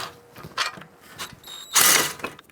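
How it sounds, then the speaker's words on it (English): A ratchet fitted with a 15mm socket and swivel works on brake caliper bolts on a Ford Taurus, with a few short clicking bursts and a louder rasping turn near the end, heard close and quiet. "So you're gonna use a 15mm socket with a swivel to get to these caliper bolts."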